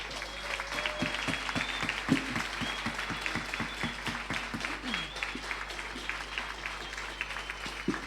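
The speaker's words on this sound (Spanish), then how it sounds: "Y les pido un aplauso." An audience at the launch of a national campaign for feminist judicial reform breaks into applause, with sharp individual claps standing out over a steady wash of hands and some faint voices.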